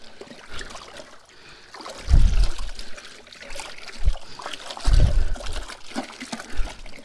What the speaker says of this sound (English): I'm going to be stirring it to dissolve it, and I'm just using my hands.